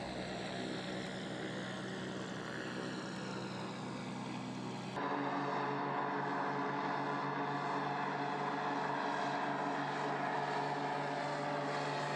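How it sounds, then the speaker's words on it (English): A float plane's steady propeller engine drones loudly overhead above a bay in Southeast Alaska, its tone shifting abruptly partway through as it passes, with no voices. "we are soon reminded we would be in the way of visiting float planes"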